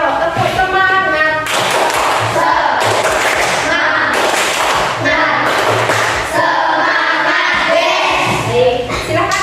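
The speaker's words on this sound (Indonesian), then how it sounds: "Tepuk semangat." Primary school pupils perform a rhythmic group clap in a classroom again, clustered bursts of loud synchronized claps and taps in a repeating pattern, with children chanting between and over the beats.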